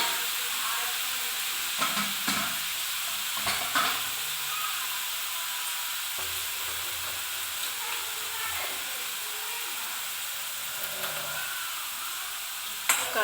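Raw onion paste sizzles steadily in hot oil for a chickpea masala gravy, a continuous close hiss with a few soft stirring scrapes and clicks scattered through it.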